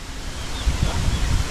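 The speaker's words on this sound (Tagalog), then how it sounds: "Imagine nyo, ganyan kalakas yung hangin." Strong wind gusting outdoors, a steady broadband roar with low rumbling buffets that swell and strengthen toward the end, close to the microphone.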